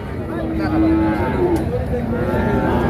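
Sahiwal breed calves at a cattle market, with a close, drawn-out moo over constant crowd and market background noise.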